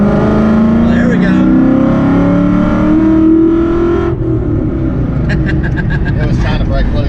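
A Coyote V8-swapped Fox-body car revs hard in third gear, its engine note climbing steadily before breaking into a rough, broadband roar of spinning tires, with voices talking over it.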